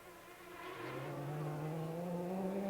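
Ferrari Maranello GT1 race cars at Monza, a distant engine note rising steadily in pitch as the car accelerates, faint and alone.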